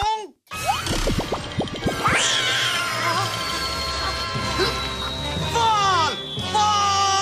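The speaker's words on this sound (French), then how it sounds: "Prêt à sauver cet adorable petit chaton?" Cartoon kitten meowing with rising, wavering cries amid busy animated sound effects, thuds and a sweeping whistle, loud and close over a continuous background score.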